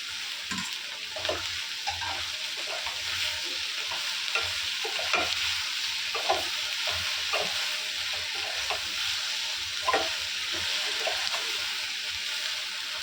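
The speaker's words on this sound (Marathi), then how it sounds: "आता ही भेंडी आहे ना यामध्ये टाकणार आहोत." Okra added to a pan and frying in oil, a steady bright sizzle with regular spatula stirring scrapes and clinks, close and even throughout.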